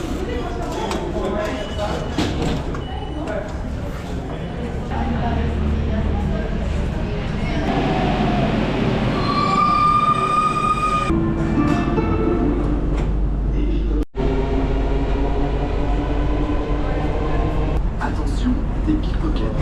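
Paris metro train ride heard from inside the carriage, a loud rumbling roll with squealing wheels and a brief dropout, people talking over it.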